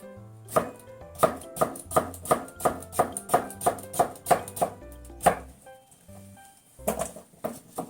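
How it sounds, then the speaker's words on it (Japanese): A knife chops vegetables on a cutting board into small pieces for Japanese shibazuke pickles, a quick run of about a dozen crisp, evenly spaced thuds, then a pause and a few more close, clear strikes. "浸かりやすいようにちょっと小さめに切りたいですね。"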